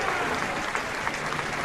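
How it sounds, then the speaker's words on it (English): At a professional bowling tournament at Stonehedge Family Fun Center, a crowd applauds and cheers for bowler Weber, dense sustained clapping with a voice talking over it. "Crowd chanting for Weber, and he answers and comes through"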